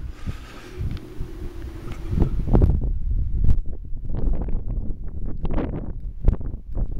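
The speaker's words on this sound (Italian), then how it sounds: "Sentite l'ululato del vento." Gusts of wind on Monte Pilidolfi buffet the microphone in rough, uneven bursts, loud and close, with a thin whistling tone early on.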